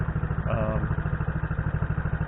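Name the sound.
Honda CT90 motorcycle engine running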